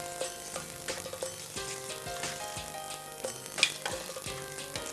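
A spoon stirring a cooked pineapple mixture in a pan, giving a series of light scrapes, taps and clicks against the metal at an irregular rhythm, quiet and close with no talking.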